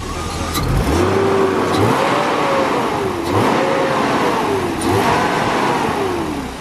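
A drift car's engine revs repeatedly in rising and falling sweeps, loud and close, in three or four cycles with no speech.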